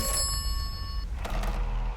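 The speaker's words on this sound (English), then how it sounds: "We got a phone ringing." A single ring of a telephone bell in the game Atomfall, bright and buzzing, cutting off after about a second and leaving a low rumbling background.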